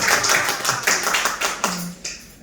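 Church congregation at a Friday worship service clapping together, a brisk run of overlapping claps that thins out toward the end, fairly close and moderately loud.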